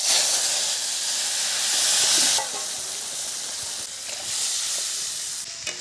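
Mustard paste hits hot mustard oil tempered with black cumin seeds, bursting into a loud, steady sizzle and hiss that drops slightly midway and carries on close up, with no talking.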